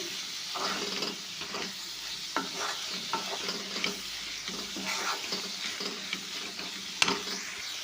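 Carrot palya is stirred and mixed in a frying pan. A steady sizzle runs under repeated scraping strokes of the spoon, close and continuous.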